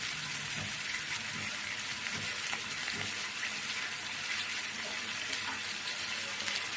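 Chicken frying in oil in a kadai for kadai chicken, giving a steady, dense sizzle that holds at an even level throughout, with faint scattered pops and no voices.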